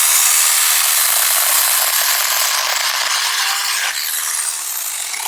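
A small 6-inch Tommy Vic mini chainsaw runs steadily at high revs, a loud continuous buzzing whine that dips briefly as it bites into thick bush branches along a fence.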